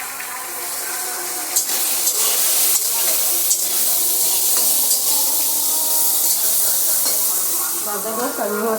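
Soybean chunks fry in a pan with a loud, continuous sizzle, overlaid by occasional scraping stirs and clinks, close up throughout with no speech.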